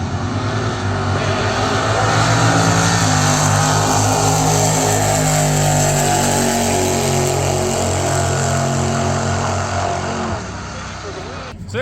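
Drag racing Crown Victoria cars roar loudly and continuously at the Heads Up Hustle 2026 event, their engines a dense, sustained rumble that holds for about ten seconds before easing off.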